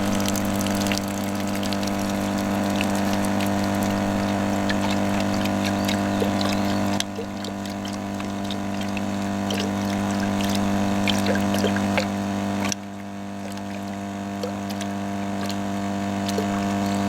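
Water is pumped out through a ceramic filter with a steady mechanical pumping drone and a constant tonal hum. It runs loud and continuous throughout, dropping briefly twice, with no voices.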